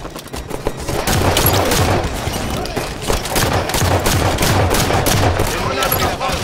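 Battle rifle fire in Halo 5: Guardians on the map The Rig, a loud, dense stream of rapid shots and bursts running almost the whole time, with other game sounds mixed in.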